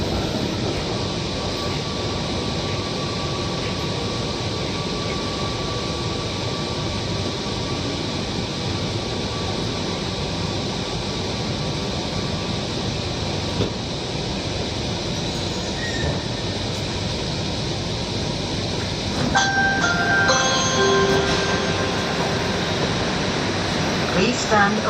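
Steady rumbling interior ambience of a Kochi Metro train in motion, a continuous broadband hum and rush of wheels and air conditioning, with a few faint chimes or tones rising near the end.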